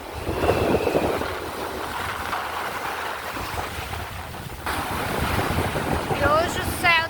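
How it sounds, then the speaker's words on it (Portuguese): Wind and ocean surf at a beach with small boats offshore, a steady broad roar of waves and gusts buffeting the microphone throughout. "tá ventando"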